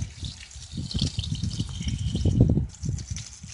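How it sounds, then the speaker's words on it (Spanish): Water rinses a split air conditioner filter, a steady splashing, gurgling flow with light irregular drips and gushes, close up and continuous, with no talking. "Le damos la vuelta a nuestro filtro y procedemos por el otro lado a lavar también solamente con agua."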